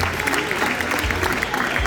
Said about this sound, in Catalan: Un fort aplaudiment per ells, sisplau